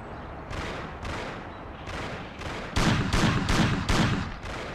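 Gunshots in the video game Mafia: a series of spaced heavy shots followed by a rapid run of louder, closer blasts, each sharp and distinct against a steady background.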